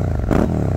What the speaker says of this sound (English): listen to that beautiful V-twin sound